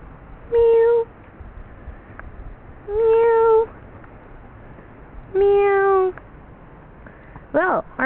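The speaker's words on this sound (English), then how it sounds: "Here with some kittens!" Kittens meow in four clear, separate bursts, the last a quick wavering run of short cries. A steady room hum sits underneath with no talking.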